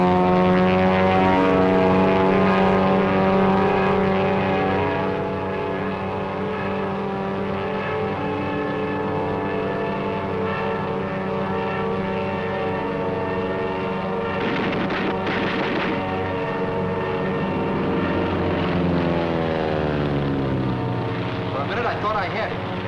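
A Japanese Zero fighter with a radial engine drones past, a loud sustained propeller roar that shifts pitch as it flies by, with someone talking over it.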